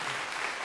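Brief burst of audience applause for retired judges at a live Washington, DC event, a short dense wash of clapping without voices.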